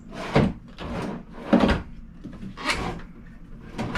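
Wardrobe drawers in a 2014 Thor Outlaw 37LS motorhome are pulled open and pushed shut several times, each giving a sharp knock or thud, with a rattling slide in between.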